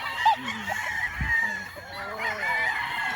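Chickens at a gamefowl farm, including hens, with clucks and crowing-like calls at close to middle distance over a steady outdoor background, with a little talk mixed in.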